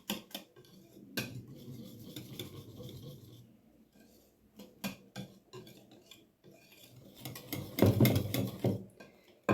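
Eggs are mixed into flour in a bowl for a simple cake, with close, irregular scraping and clinking of a utensil against the bowl that grows louder and more vigorous toward the end.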